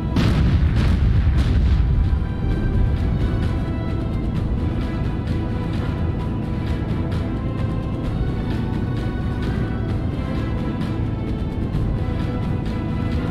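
Warship main guns fire a heavy salvo in the naval combat game Battlestations Pacific: a deep, loud boom opens, then a long rumbling roar of blasts and crackling reverberation sustained at high level with no talking.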